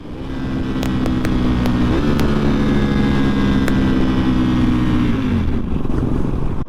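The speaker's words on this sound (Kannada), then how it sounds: "ಅಕ್ರಪೋಜ್ ಎಕ್ಸಾಸ್ಟ್ ಇದೆಯಲ್ಲ the way it is sounding is two too good" A Ducati Panigale V4S fitted with an Akrapovic exhaust holds a loud, steady rumbling note close by, rising slightly in pitch midway before the revs drop and fade near the end.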